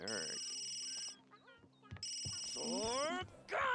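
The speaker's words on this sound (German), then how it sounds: "Das Telefon hat auch aufgehört zu klingeln." A telephone rings in the video game Sims 3, two bright electronic ringing bursts separated by a short gap, mixed with game sounds and voices talking over them.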